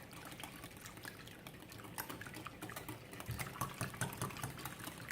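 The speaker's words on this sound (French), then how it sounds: "Je mélange le tout bien à l'aide de mon fouet" A whisk mixing lemon cake batter in a bowl, with quiet wet clicking and sloshing strokes in an irregular, steady rhythm, faint and close.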